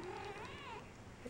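Persian kittens in a nursery give a thin, wavering meow that rises and falls, then fades into soft background rustle with a faint chirp near the end.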